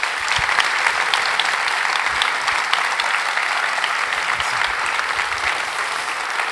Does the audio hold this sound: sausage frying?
no